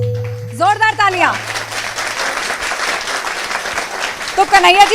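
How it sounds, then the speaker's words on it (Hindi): Loud crowd applause for a singer at a Diwali celebration, a steady dense clapping roar running several seconds, with a sung or amplified voice at the start and again near the end. "जोरदार तालियां।"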